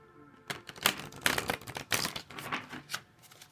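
Oracle cards being shuffled by hand, with about six crisp, papery bursts of riffling in an uneven rhythm. They are close and fairly loud, with no talk.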